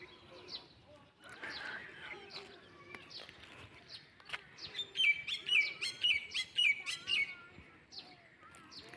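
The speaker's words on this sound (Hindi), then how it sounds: "सुबह सुबह चिड़ियों की आवाज़ें, कोयल की आवाज़ें बहुत अच्छी लगती हैं।" Early-morning birdsong with koels among the callers: many quick chirps and tweets overlap, growing busier and louder in the second half, with nearby rapid repeated calls standing out.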